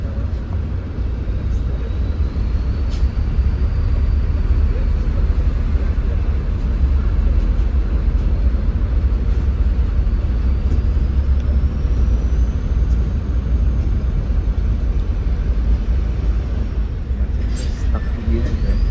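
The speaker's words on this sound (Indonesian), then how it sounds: "Yang macet parah banget." Steady low rumble of heavy, stalled traffic on a Jakarta road, engine drone filling the scene continuously with a faint whine above, loud and close throughout.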